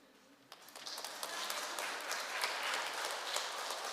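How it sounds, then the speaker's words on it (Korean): A congregation at a Won Buddhist temple service claps for a birthday, starting sparse with a few claps and swelling into sustained, moderately loud applause. "생일 선물 생일 축하 박수예요?"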